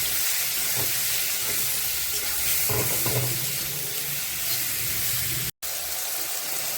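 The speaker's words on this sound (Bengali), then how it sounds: "হলুদ দিয়ে এটা একটু ভালো করে ভেজে নেব" Mushrooms fry in a hot pan with turmeric for a mushroom paneer dish, a constant loud sizzling hiss with occasional soft stirring scrapes and a brief cut near the end.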